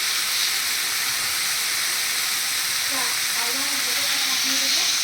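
Ginger, cumin and chili spices sizzling in a hot pan for a drumstick curry, a steady loud hiss with faint tonal hints, continuous throughout.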